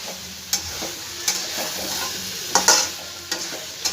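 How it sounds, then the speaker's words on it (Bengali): Jackfruit is stir-fried with spice masala in a pan, a steady sizzle broken by sharp scrapes and clacks of the spatula at irregular moments, close and fairly loud with no talk. "ভালো করে একটু এঁচোড়ের সঙ্গে মশলাটা কষাই"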